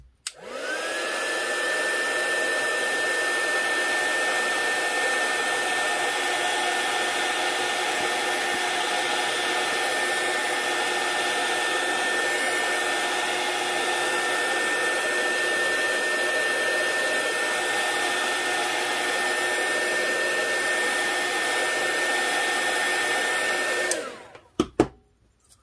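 A heat tool blasts hot air onto thermal paper in a steady, loud whoosh with a constant whine that holds for about 24 seconds, then cuts off abruptly.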